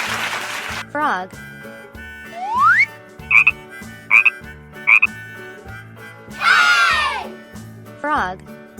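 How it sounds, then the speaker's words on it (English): Frog croaks from an animal toy: a run of short, loud, evenly spaced croaks, then a longer wavering call, over steady music. "Frog."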